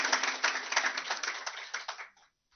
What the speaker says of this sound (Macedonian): Може да аплауз за сите вас и за овој Марили бизнис форум.